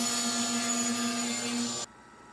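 A power saw cuts small wooden blocks for a shop computer wall mount, giving a loud, steady whine for about two seconds before it stops abruptly.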